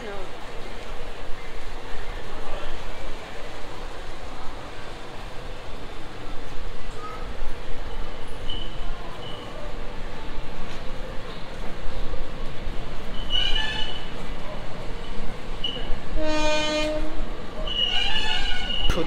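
Vibhuti Express from Howrah to Varanasi rolling along with a steady broadband rumble of wheels and carriages, and a horn blowing in short bursts toward the end.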